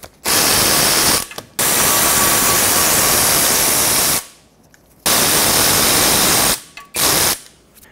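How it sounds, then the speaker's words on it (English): Power tool removing the two 17mm brake caliper bolts on a 2014-2019 Toyota Highlander, loud harsh buzzing bursts of several seconds separated by short pauses, close up. "Remove the two 17mm caliper bolts."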